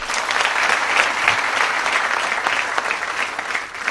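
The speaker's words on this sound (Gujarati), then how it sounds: "એ વીર સૈનિકોને પણ એકવાર આપણે તાળીઓથી વધાવી લઈએ" A crowd at a Gujarati comedy show claps steadily in honour of the nation's soldiers, a dense, even wash of applause lasting throughout without any talk.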